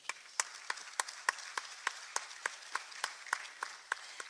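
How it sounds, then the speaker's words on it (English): A few people clap in a slow, even rhythm after a speaker at a public-private business dialogue in Yokohama, Japan, the sharp claps faint and distant and spaced about a third of a second apart. "Can we please give him a hand of applause?"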